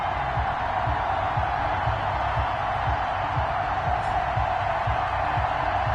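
An NFL stadium crowd in a football video game ahead of a Chicago Bears versus New York Giants matchup roars as a steady, broad wash of cheering with faint rhythmic thumps underneath.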